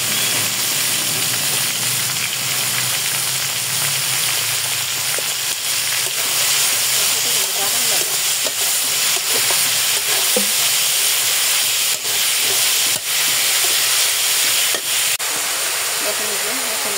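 Onions and spices fry lightly in a pan with a constant close sizzle and hiss, broken by small stirring clicks and scrapes throughout.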